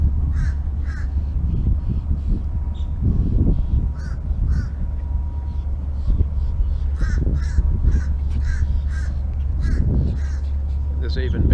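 Crows caw repeatedly around a marina busy with birds, loud rhythmic calls in irregular bursts over a low steady rumble.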